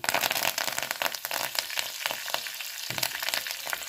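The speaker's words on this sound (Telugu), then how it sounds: "కొంచెం ఆవాలు చిట్పట్లాడాలి." Mustard seeds, fenugreek, dried red chillies, asafoetida and curry leaves sputter in hot oil for a drumstick mustard curry, with dense, close popping and crackling bursts over a continuous sizzle.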